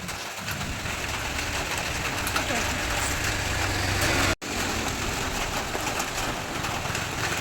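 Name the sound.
heavy rain while out on the road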